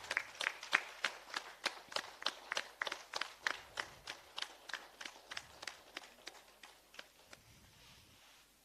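A small group claps together after a guided meditation session, a steady run of sharp, evenly spaced hand claps at moderate volume that carries on for several seconds and then thins out toward the end.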